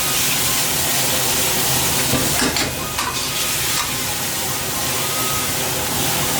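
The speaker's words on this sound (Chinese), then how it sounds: "大火给它翻炒均匀" Prawns stir-fried in a wok over high heat, with a steady loud sizzle and the scrape of tossing throughout, punctuated by brief bursts of sharper crackle.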